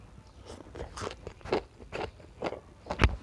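Crisp snack crunched in close, sharp bites, a string of irregular crackling crunches with brief pauses between them and no voices.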